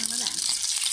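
Bánh xèo batter for a central Vietnamese crêpe hits a hot pan with shrimp and pork already frying, giving a loud, steady hiss of oil that carries on unbroken for a second.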